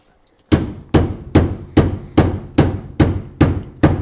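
Eight sharp hammer strikes land in an even rhythm on a stuck part of a drag race Ford Fairlane, each a loud, close metallic bang with a short decay, following a moment of near silence.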